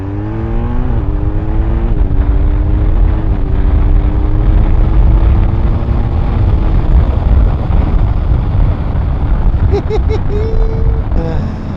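A BMW R1250R motorcycle engine rises and falls in steady revs while riding, with a loud continuous drone and rising, stepping tones throughout; wind and road rumble sit underneath, and a brief higher whine comes near the end.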